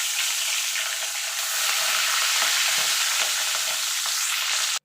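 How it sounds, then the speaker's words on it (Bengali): Pieces of rohu fish frying in hot oil give a loud, dense, steady crackling sizzle up close, with occasional small pops and no voices. "এবার বাকি মাছগুলো আমি ভেজে নেব।"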